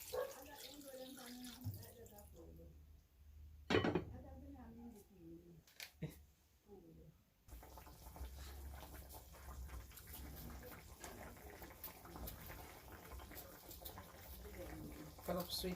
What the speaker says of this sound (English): Gonna add some water to it,